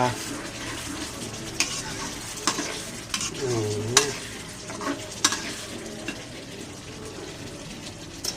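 Canned fish with holy basil stir-fried in a pan: a continuous sizzle with repeated sharp scrapes and clanks of the spatula against the metal, close and fairly loud throughout.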